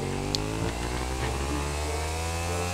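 A steady engine drone with harmonic hum runs throughout, like a motorcycle in GTA V idling and revving slightly, with a brief high click early on.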